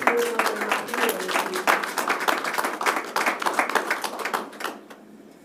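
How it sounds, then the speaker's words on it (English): Applause for district staff honored as leaders at a Manchester Community Schools board of trustees meeting, a few seconds of scattered, fairly close clapping that thins out and fades toward the end. "So join me in a round of applause for them."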